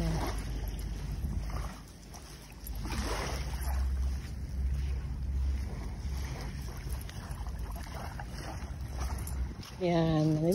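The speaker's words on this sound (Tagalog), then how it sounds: "nandito tayo sa Petone Beach" Steady wind and surf at Petone Beach in New Zealand, a continuous low rumble that runs through the whole stretch, with a brief voice-like sound near the end.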